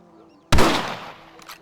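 A single rifle shot in the Western video game Red Dead Redemption cracks out sharply and close, then rolls off in a short decaying echo, with a faint click near the end.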